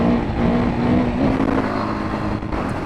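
Beta 480 dirt bike cruising on the road at speed, a steady engine drone with wind rush, fairly loud and continuous throughout.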